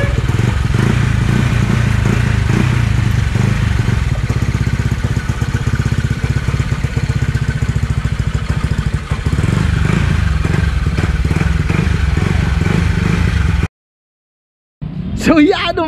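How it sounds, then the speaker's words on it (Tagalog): A Yamaha Aerox scooter engine, upgraded from 155cc to 195cc, runs steadily and loud throughout with some clatter, then cuts out briefly near the end before revving back up. "umaandar na yung motor natin mga sir"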